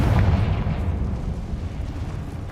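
A Confringo fire spell blast from Hogwarts Legacy, a deep rumbling boom that fades slowly over a couple of seconds with no other sounds.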